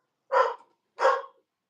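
A dog barks twice, loud and close, with a short gap between the barks, in a quiet room.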